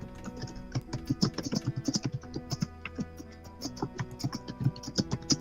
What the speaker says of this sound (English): With aggressive typing.